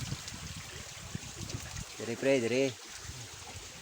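Water is tipped out of a bucket in a steady, splashing pour, with a voice speaking briefly partway through.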